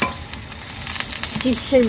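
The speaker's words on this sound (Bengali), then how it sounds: "দেখো কলাটা ভাজা হচ্ছে। আমরা করছি এটা পাকা কলা ভাজা" Ripe banana slices fry in hot mustard oil in a kadai, with a steady sizzle and spatula stirring scrapes, and brief tonal squeaks from the pan near the end.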